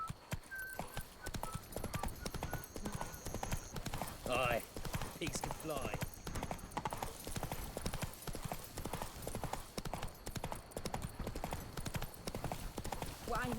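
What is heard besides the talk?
horse Roach galloping hoofbeats, video game The Witcher 3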